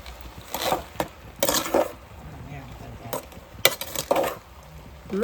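A spoon stirs masala paste in a cooking pan, giving intermittent scraping and clanking bursts separated by quieter gaps, close and fairly loud.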